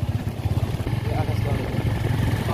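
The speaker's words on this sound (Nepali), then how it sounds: "यो चाहिँ बुलेट बाइक हो" A Bullet motorcycle engine idles close by with a steady, low, rhythmic thumping pulse.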